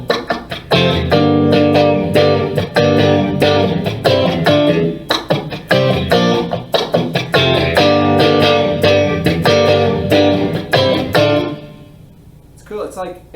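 Bright, driven electric guitar chords on the bridge and middle pickups strummed in a steady rhythm, full and slightly distorted, ringing out and fading near the end.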